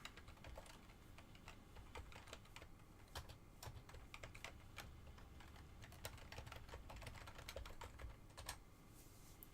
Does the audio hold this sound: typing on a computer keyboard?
yes